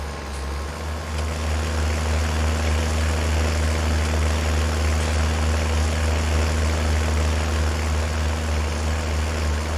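A tractor engine in Farming Simulator 19 drones steadily at a low pitch, a constant, fairly loud hum with no breaks.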